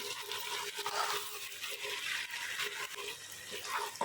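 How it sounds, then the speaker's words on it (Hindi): Mutton and taro root (arvi) being sautéed and stirred in a pot, a steady soft sizzle with scraping and stirring noises throughout, close and fairly quiet, with no talking. "तो गोश्त की ऐसे भुनाई करनी है"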